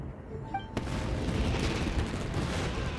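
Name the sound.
fireworks exploding in Genshin Impact, a video game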